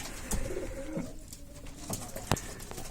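Soft cooing of breeding pigeons comes and goes amid a busy outdoor background, with a few sharper knocks and rustles nearby.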